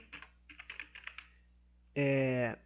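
A git push command is typed on a computer keyboard in a quick run of crisp, close key taps. After a short pause a voice begins speaking.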